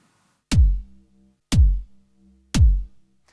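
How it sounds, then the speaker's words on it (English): Three punchy kick drum hits from a Jomox Airbase drum machine, evenly spaced about a second apart, each a deep booming thump with a short decaying tail, rock-style kick, alone with no talking. "The kick drum is from my Jomox Airbase,"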